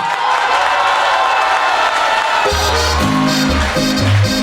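Loud TV studio audience applause with cheering at a folk music show, then a bass-heavy band intro breaks in and plays over the clapping.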